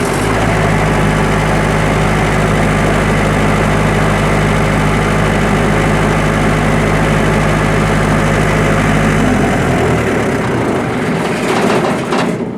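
A generator engine controlled by a Power Wizard/EMCP 3 panel runs with a loud, steady low hum and drone. The deep tone drops away near the end, leaving a fainter rattle.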